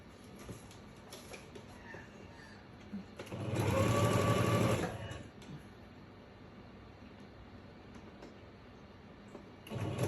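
Sewing machine stitching around a Kraft-tex notebook cover in one loud, steady burst of about two seconds, with quiet room tone before and after.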